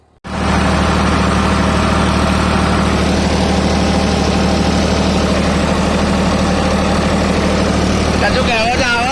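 A Mahindra 855 tractor engine idles steadily in a village farm field, a continuous low rumble that runs loud and near for the whole stretch, with a brief whistle-like tone near the end.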